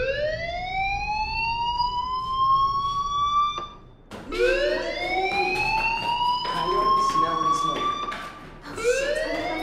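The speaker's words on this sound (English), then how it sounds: "Hey, do you hear that fire alarm?" A fire alarm blares inside the video game Life is Strange, repeated rising electronic wails that swell loudly, break off briefly near four seconds, then resume, with faint voices murmuring underneath.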